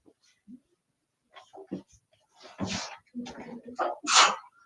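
One sharp, fairly close sneeze bursts out near the end, after brief moments of speech and other small indoor sounds.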